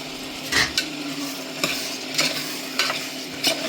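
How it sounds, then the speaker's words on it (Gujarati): Potatoes get stirred in a pot over a low sizzle, with a handful of distinct clattering scrapes of a utensil against the pot at irregular intervals. "બટેકા નાખી દીધા, એને હલાવવાના"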